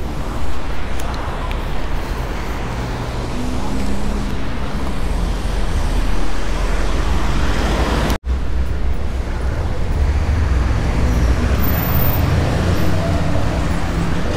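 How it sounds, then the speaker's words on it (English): Steady through traffic on King Street in a city centre, a continuous broadband roadway rumble of passing vehicles with no talk, briefly cutting out for an instant about midway. "or the through traffic through the city using King Street"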